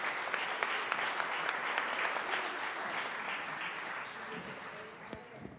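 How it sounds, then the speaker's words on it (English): An audience at a live-streamed AI conference panel gives a sustained round of applause for the moderator, dense clapping that stays steady and slowly fades over several seconds. "everybody give Hiba a good round of applause."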